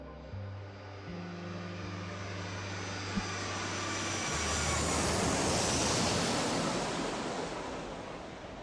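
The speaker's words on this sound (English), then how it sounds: "as the aircraft powers through the clouds" Japan Airlines Flight 123, an airliner, climbs after takeoff, its engines a continuous roar with a low droning hum beneath that swells gradually louder over several seconds.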